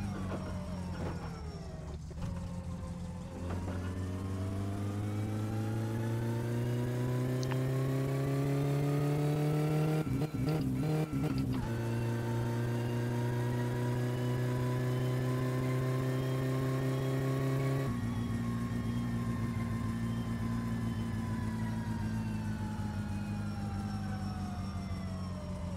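Car engine in the video game My Summer Car, a continuous droning whine whose pitch rises and falls through gear changes and acceleration, with a few brief clunks midway, loud and steady with no talking.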